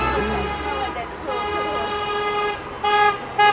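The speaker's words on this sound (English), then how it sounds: "Honk!" Car horns sound at a street rally in support of Azov, with sustained honking tones throughout and two sharper, louder blasts near the end over background crowd and traffic noise.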